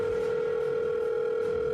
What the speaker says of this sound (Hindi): उसने अपने फैमिली डॉक्टर को तुरंत फोन किया।